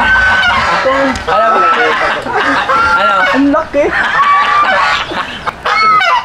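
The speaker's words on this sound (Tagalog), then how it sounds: "Ayun naman gansa" Geese honk repeatedly in loud, close, overlapping calls at a rural farmyard in Isabela, mixed with other poultry, while people talk over them.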